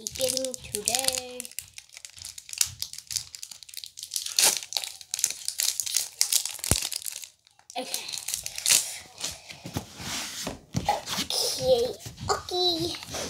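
A Pokemon card pack wrapper is torn open and crinkled in repeated bursts of close, sharp crackling and tearing, with children talking excitedly over it.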